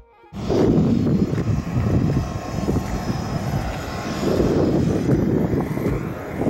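An aircraft at a tiny airport runway in Aksum, Ethiopia, a loud steady engine roar that starts abruptly and holds throughout, with wind buffeting the microphone.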